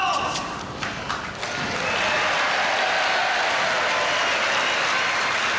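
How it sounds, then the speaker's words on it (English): Tennis fans applaud at a 1984 mixed doubles final, a burst of clapping that swells after a second and holds as a dense, steady patter. "Sarcastic applause from the fans."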